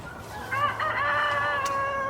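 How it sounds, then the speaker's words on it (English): A rooster crows once, loud and close, a long wavering call over quiet outdoor background noise. "I've got the roosters, I've got the ducks. They're all very vocal this morning"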